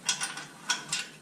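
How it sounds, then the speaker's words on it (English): A ratchet clicks in short bursts while tightening nuts onto the bolts of transmission mount braces for an OM617 to R150 swap, giving four or five quick metallic ratcheting strokes close up with no talking. "Now I'll tighten the nuts onto the bolts and that'll actually lock these braces into place."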